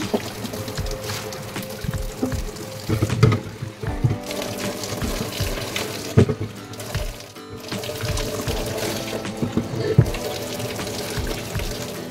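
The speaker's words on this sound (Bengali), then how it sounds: "নিয়ে এবার বাঁশের ভেতরটা খুব ভালো করে জল দিয়ে ধুয়ে নিচ্ছি।" Water sloshing and running through hollow cut bamboo pieces as their insides are rinsed, a steady wet splashing with a few knocks and pauses, close and moderately loud.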